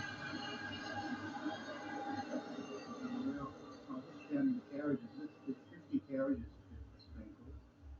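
A long train of about 50 carriages rumbles steadily past in Australia, with a continuous low roar and rhythmic clatter through the whole span. Voices talk over the train in the second half.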